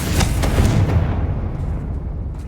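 A single loud explosive blast from a fire spell cast in a Hogwarts wizarding video game, a sharp booming burst up close that rumbles and fades away over a couple of seconds.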